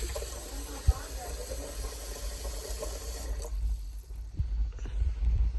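Hot water runs steadily from a tap into a sink after a water heater replacement, a constant hiss and splash, with a short knock and a voice briefly heard.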